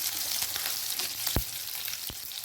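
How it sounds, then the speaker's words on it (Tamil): Onions sautéing in a pan for tiffin sambar give a dense, continuous sizzle with a couple of sharp clicks from the utensil, close and steady throughout. "வெங்காயம் வந்து ஒரு 2 நிமிஷம் வதங்கினதுக்கப்புறமா தக்காளி சேர்த்துக்கலாம்."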